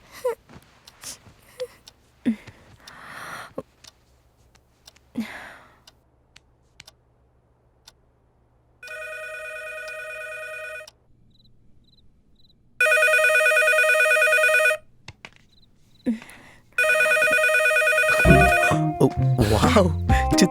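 A telephone rings in repeated electronic bursts that grow louder with each ring, with gaps of silence between them, in a Tamil horror film scene; scattered sounds and brief voices come before the ringing starts.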